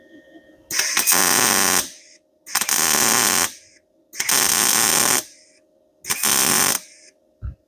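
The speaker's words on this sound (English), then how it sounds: "I just turn on the gas and pull the trigger on the MIG gun." A MIG welder fired in four separate bursts of about a second each, a loud harsh crackling buzz with short gaps of silence between, close to the torch.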